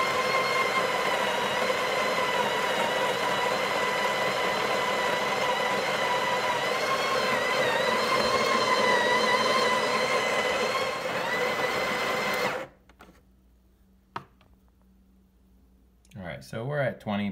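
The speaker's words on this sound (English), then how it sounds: "and it grinds coffee." A Breville Barista Express espresso machine grinds coffee beans in a steady, loud mechanical whir that runs for about twelve seconds, then cuts off abruptly, followed by quiet handling noises.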